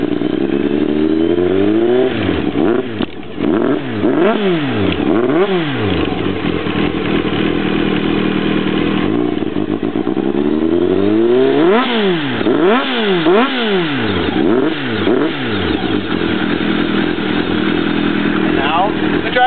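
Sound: 2000 Kawasaki ZR-7 motorcycle with Jardine exhaust revving

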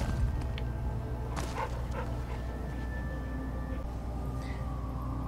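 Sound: dog barking in Fallout New Vegas video game

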